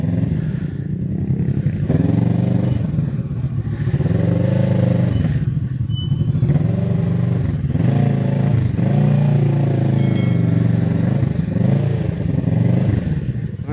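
Motorcycle exhaust rumbles loud and steady under continuous close talking during a ride, with the engine note rising and falling through the run.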